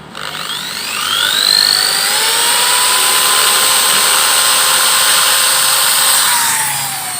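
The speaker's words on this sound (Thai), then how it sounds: "เดี๋ยวผมเจาะให้ดูเลยดีกว่า" A power drill bores a hole into a small metal amulet frame, a loud sustained high whine with a rising pitch at the start and steady grinding through to the end, alone without talk.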